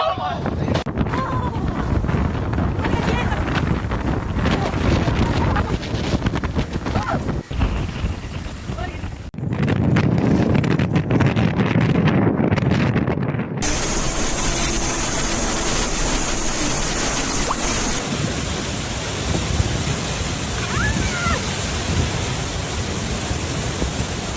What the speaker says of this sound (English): Typhoon Kajiki suddenly intensified, reaching Category 2 status with maximum sustained winds of up to 162 kilometers per